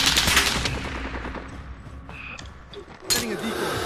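Rapid automatic gunfire rattles in the video game Warzone, a dense close burst of shots that fades, then brief pauses with a few scattered shots and a renewed volley near the end, with game noise around it.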